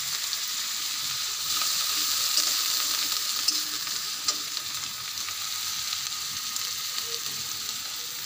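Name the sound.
onion, ginger, cumin and mustard pastes frying in oil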